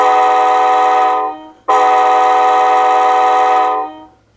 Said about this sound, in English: Of course, you can hear the horn.